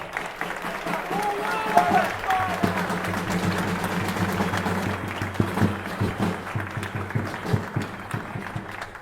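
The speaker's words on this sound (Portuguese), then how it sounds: "Uma salva de palmas" Crowd applause at a political gathering, a steady wash of clapping that runs throughout at moderate loudness, with cheering and voices mixed in.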